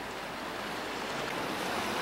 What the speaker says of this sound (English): You can see some of the waves as the tide recedes beginning to break over the reef